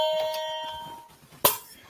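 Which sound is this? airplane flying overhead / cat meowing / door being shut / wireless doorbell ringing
wireless doorbell ringing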